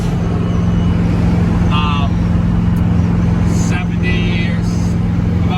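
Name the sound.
Ford Thunderbird cruising at about 65-70 mph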